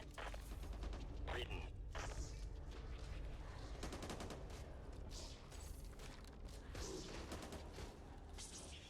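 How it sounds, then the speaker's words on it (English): Dense machine gun fire in the zombie shooter Back 4 Blood, a continuous rattle of rapid shots layered with other game effects, steady and moderately loud throughout. "Machine gun."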